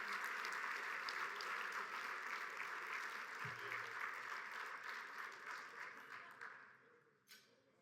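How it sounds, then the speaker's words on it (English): A crowd applauds at the Junior Achievement Business Hall of Fame awards event, sustained dense clapping filling the hall before tapering off at the end. "How about one more round of applause for this group of people?"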